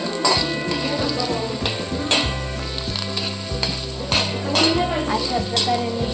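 Onions sizzle steadily in hot oil while a spoon stirs and scrapes the pan, with occasional metallic clinks, loud and close throughout.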